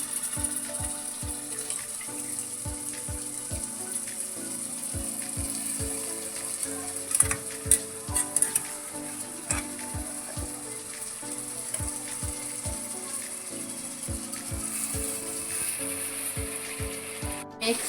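Boiled cauliflower and peas being stirred in a hot pan, with a soft sizzle under repeated rhythmic spatula taps and scrapes against the metal, close and moderately quiet, with no voices.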